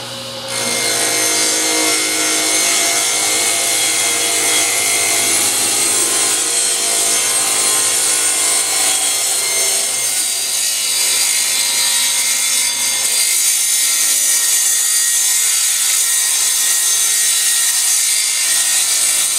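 Saw cutting through wood for a coffee table, a steady continuous rasping stroke that runs loud and close for the whole stretch with no talking.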